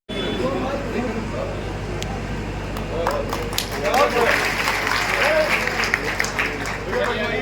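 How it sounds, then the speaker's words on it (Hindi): A crowd claps steadily at a BJP workers' political meeting in Gola, the applause swelling midway and continuing under a murmur of voices and crowd noise. "एक बार जोरदार ताली आप अपने लिए स्वयं बजा रहे हैं।"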